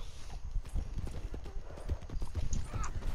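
Horse hooves clop on a balcony in Red Dead Redemption 2, a steady run of close hoofbeats with a faint whinny near the end.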